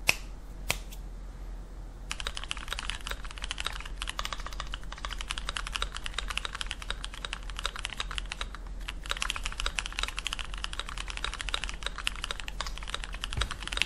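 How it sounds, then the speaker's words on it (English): Rapid, steady typing on an Inland MK Pro 75% mechanical keyboard with ABS keycaps, crisp clacky keystrokes running continuously and close up with no voices. "Typing on them truly pops with each keystroke."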